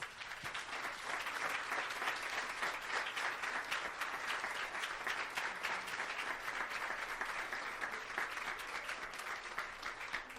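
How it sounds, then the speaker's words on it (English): A crowd applauds steadily and fairly evenly for the whole stretch, a dense wash of clapping heard from a moderate distance. "Can you please stand as we applaud you and recognize you"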